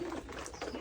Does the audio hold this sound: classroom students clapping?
no